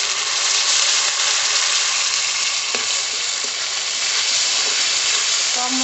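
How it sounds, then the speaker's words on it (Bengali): Ginger, garlic and green chili paste hit hot oil with lightly fried onions in a pan, giving a loud, steady sizzle and crackle throughout, with a few faint clinks of a spoon. "এবার বেটে রাখা আদা রসুন আর কাঁচা লঙ্কা দিয়ে দিলাম।"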